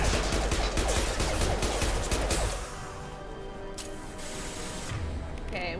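Pistol gunfire in a video game rattles out as a dense, rapid burst of sharp shots for about two and a half seconds, then eases into quieter scattered reports.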